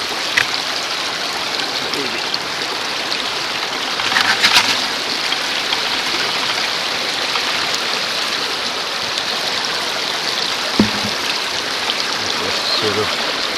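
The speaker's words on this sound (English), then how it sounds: "the water just cleans it all off and away it goes" Water rushing steadily through a gold prospecting sluice box, a loud continuous wash with a few brief knocks over the flow.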